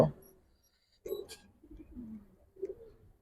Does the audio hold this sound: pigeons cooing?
yes